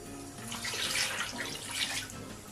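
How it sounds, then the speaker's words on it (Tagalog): Water pours steadily from a tap into a cooking pot holding pork intestines set to boil, a continuous close splashing rush across the whole stretch with no voices. "Lagyan natin ng tubig."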